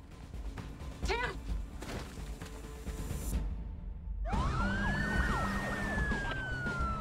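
A CDC ambulance siren wails with a police escort heading east on South Grand toward Shaw Memorial, bursting in loud and close partway through with rising and falling sweeps, after low street rumble and some voices.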